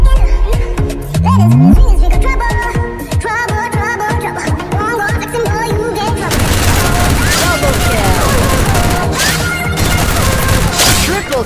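Dense rapid gunfire and explosive bursts from the mobile battle game Free Fire, loud and continuous, mixed with game music and effects and a voice speaking over the action.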